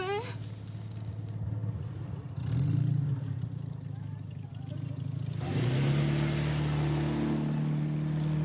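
A car engine rumbles and revs up as the vehicle pulls away, rising in pitch over several seconds, with voices speaking over it.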